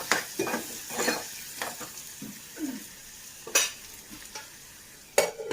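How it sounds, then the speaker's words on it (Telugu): Onion and green chilli pieces frying in a pan for a fenugreek-leaf tomato curry, with scattered stirring scrapes and soft sizzling bursts, several sharp clinks of a spoon against the pan, close by and with no talking. "ఉల్లిపాయ ముక్కలను బాగా ఎర్రగా వేయించుకోవాలి"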